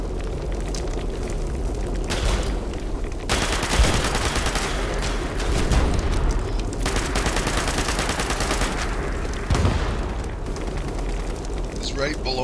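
Video game gunfire, sharp bursts and crackling volleys that come and go over a dense, roaring background, with bursts of talk mixed in.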